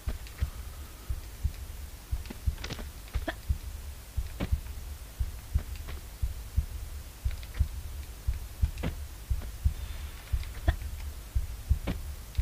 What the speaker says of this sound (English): Have you ever heard of a ship with a heartbeat?